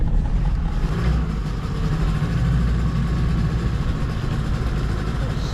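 A sailboat's engine runs continuously with a deep, steady rumble, loud and close throughout, as it is shifted into forward gear instead of reverse.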